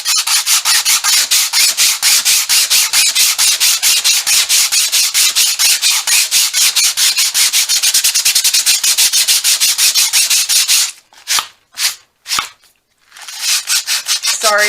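Sandpaper is rubbed back and forth over paper in fast, even scratchy strokes, loud and close, before it breaks into a few separate swipes and then resumes the rhythmic rubbing.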